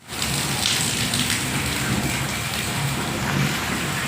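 Heavy rain pours steadily over farmland, a dense, continuous hiss and patter, loud and close, with no breaks across the whole stretch.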